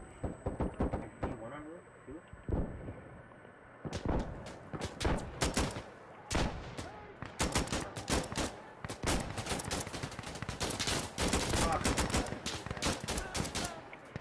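Rapid gunfire crackles through a match of Insurgency Sandstorm, dense automatic bursts and single shots packed close together under excited players' voices talking over the action.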